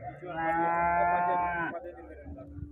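A young calf gives one clear, sustained moo close by, followed by quieter background murmur, at a weekly cattle market in Siddipet, Telangana.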